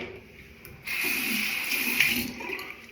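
Water runs steadily from a tap for a couple of seconds, a soft hiss that starts abruptly and then tapers off, with no talking.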